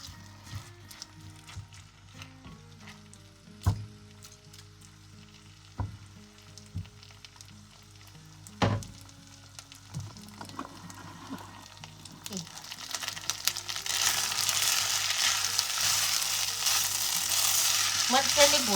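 Rice is stirred and fried in ghee with cumin seeds and bay leaves for chamra bhat. Scattered spoon scrapes and clinks come first, then a close sizzle swells and holds loudly to the end.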